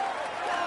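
A crowd applauds a cycling stage winner wearing the yellow jersey: a dense, steady wash of clapping and cheering, fairly distant and even throughout the short burst.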